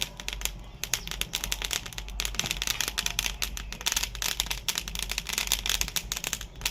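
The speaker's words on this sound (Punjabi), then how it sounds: "ਜਦੋਂ ਆਲਸੀ ਭੁੱਜਣੀ ਸ਼ੁਰੂ ਹੋ ਜਵੇ ਤਾਂ ਇਸ ਤਰ੍ਹਾਂ ਦੀ ਆਵਾਜ਼ ਆਉਂਦੀ ਹੈ" Whole flaxseed dry-roasting in a kadai gives a dense, steady patter of fine crackles and pops throughout, close and continuous with no voices.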